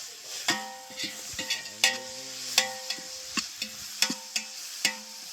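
Chicken sizzling in a pan for chicken sukka, with a series of sharp metallic clinks and scrapes from stirring that repeat at an irregular rhythm over a steady soft fry, close by with no voices.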